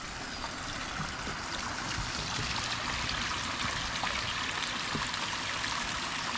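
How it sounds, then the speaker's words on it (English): Steady, close rush of water pouring through a 6-foot pondless waterfall with a spillway bowl, a constant broadband splash and trickle without pauses or voices. "So we got our standard 6-foot pondless waterfall, a spillway bowl"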